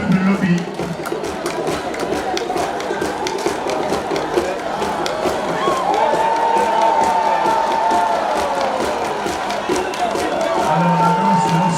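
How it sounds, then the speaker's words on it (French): A crowd cheering and clapping at a Lobi dance performance, part of a large ceremony from Bouna in northeastern Côte d'Ivoire. The cheering is steady and sustained throughout, with drumming or rhythmic thumps and voices mixed in. "la danse est en train d'arracher des acclamations"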